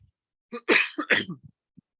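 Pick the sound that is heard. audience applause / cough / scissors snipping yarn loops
cough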